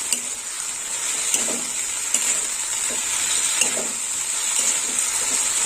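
Red chili powder fries in oil in a pan for a potato and okra curry, a steady close sizzle with occasional light scraping of a stirring spoon.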